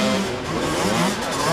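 An engine revs hard and steadily as a vehicle labours up a steep climb during the Enduro du Limousin 2018. The roar is loud, close and sustained, with slight rises and dips in pitch.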